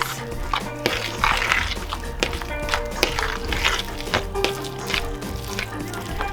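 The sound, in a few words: mixing eggs into papanasi cheese doughnut dough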